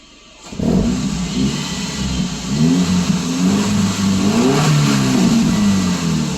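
A 2007 Subaru Impreza engine with a lumpy warm idle settles from a raised speed back toward idle. After a brief quiet start, a steady, loud engine drone holds with slightly wavering pitch, and no voices are heard.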